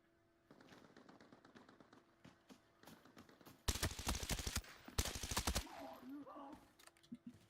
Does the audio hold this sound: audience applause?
no